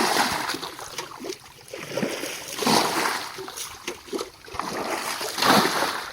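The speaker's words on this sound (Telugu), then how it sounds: "గుంటల నీళ్ళు అయితే చల్లుతా ఉన్నారు" Pond water being splashed out of a small village fishing pit by hand, several uneven bursts of splashing and sloshing at close range, with no talk.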